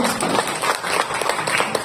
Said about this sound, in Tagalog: wala bang palakpak dyan!